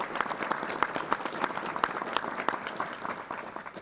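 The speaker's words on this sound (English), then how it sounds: "So let's give SLED a round of applause." Audience applause at an annual report news conference, a dense steady patter of many hands clapping together for a few seconds with no voices over it.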